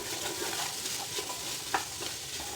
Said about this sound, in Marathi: बटाटा आणि हे फ्रेश मटार आहेत त्याला मिक्स करून घ्यायचे